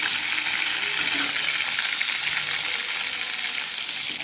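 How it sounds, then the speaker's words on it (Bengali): Fish heads frying in hot oil make a loud, dense, unbroken sizzle heard up close, with faint stirring and no voices. "এখন এই যে মাছের মাথাগুলো ভাজি"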